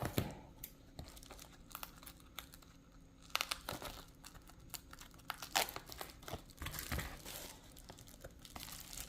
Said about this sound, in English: Now we peel the backs off.